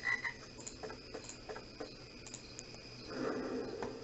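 A frog croaks in the Dark Parables video game: a few close, distinct croaks over a quiet game ambience, with a louder, denser stretch of sound near the end.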